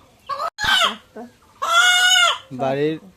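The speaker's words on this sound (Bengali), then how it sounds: "বাড়ির দেশি মুরগি আজকে জবাই করা হবে" A domestic native chicken, about to be slaughtered at home, gives several loud, close squawking clucks in short bursts with pauses between.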